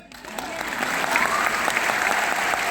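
An audience at a school talk claps together, the applause swelling from a thin start into a full, steady round with a few voices faintly underneath.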